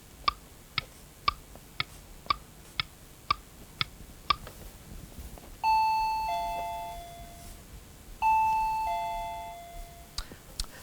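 A quiz show's ticking countdown marks time with sharp regular clicks, then two loud electronic ding-dong bell chimes ring out to end the question, followed by a few faint ticks.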